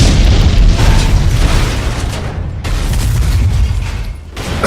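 A sustained explosion roars through a dramatized wartime scene, with heavy rumbling debris from a collapsing ceiling that continues for several seconds, loud and close, with no voices over it.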